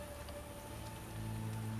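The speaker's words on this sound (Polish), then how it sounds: "Deszcz wszystko pada" Steady rainfall in the video game The Witcher during a storm, a dense even hiss of rain on surfaces with a faint tonal hum beneath, growing slightly louder near the end and with no talking.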